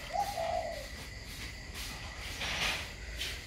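A spotted dove coos outdoors, a brief soft call early on and another mid-clip, set against a steady bed of insect chirring and faint ambient noise.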